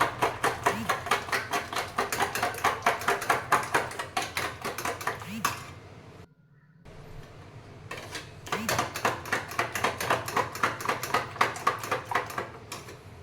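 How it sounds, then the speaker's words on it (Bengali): Eggs mixed with black pepper and salt for fish cutlets are beaten in a bowl, giving a fast, steady run of clinking, scraping strokes that stops briefly partway through and then resumes at the same brisk pace. "এবার ডিমগুলোকে ওর মধ্যে দিয়ে ভালো করে মিক্স করে নেব"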